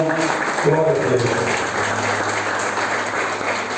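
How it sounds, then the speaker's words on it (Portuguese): A church congregation applauding during a worship service, a continuous, even wash of many hands clapping, fairly loud and sustained, with some voices faintly underneath. "Você pode dar um forte aplauso ao Senhor."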